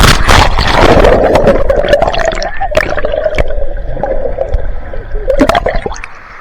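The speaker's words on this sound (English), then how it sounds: "It's a short slide, but it really moves." A rider rushes down a short, fast water slide at a large indoor-outdoor waterpark, with loud, close gushing and gurgling water and splashing the whole way. A sustained vocal cry rides over the churning water before it tapers off.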